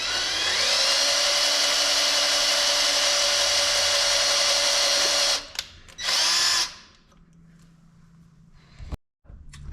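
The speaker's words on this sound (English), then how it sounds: "now I'm just going to finish just drilling a little bit more straight down" Power drill boring into the center of a seized bolt on a Mitsubishi Evo 8 engine, a loud steady whine for about five seconds, then brief bursts and stops before the motor falls quiet.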